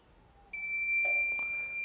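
Heat press machine timer beeping as the pressing cycle ends, a sudden steady high electronic tone that starts after a quiet moment and holds to the end, with a light click partway through.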